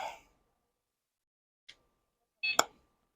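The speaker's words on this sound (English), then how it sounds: "And here it gives a little beep." A short electronic beep sounds after a faint click, followed by a brief bright chirp, in an otherwise quiet room.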